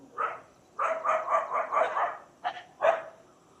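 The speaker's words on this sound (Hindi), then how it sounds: "भौंक ही रहे, खास कुछ तो दिखा नहीं रहे करतब" Neighbourhood dogs bark in a quick run of five or six sharp, fairly close barks, then pause before two more separate barks follow on a quiet morning street.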